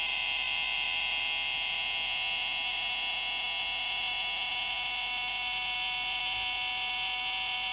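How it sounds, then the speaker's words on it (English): A steady, shrill electronic beep tone from a 3-volt analog egg timer alarm circuit sounds continuously and unbroken, high-pitched and buzzy, with no voices. "here is the beep"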